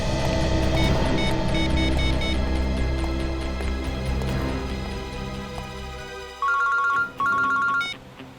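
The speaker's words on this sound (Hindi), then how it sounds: "हाँ चित्रोली सर, कहिए क्यों फोन किया आप?" A telephone rings with a melodic electronic ringtone in a crime drama scene, playing steadily over a low hum before switching to short, loud, repeated electronic ring bursts near the end.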